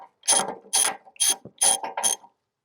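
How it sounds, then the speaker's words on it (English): A ratchet and socket loosen the anode on a camper water heater: five close, crisp bursts of rapid clicking ratchet strokes separated by brief pauses. "we'll take our ratchet and socket and loosen up the anode"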